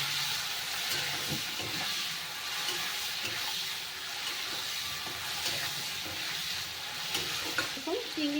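Prawns dusted with turmeric and salt sizzle steadily in a hot pan, a continuous close crackle broken by occasional soft scrapes and clinks as the pieces are stirred.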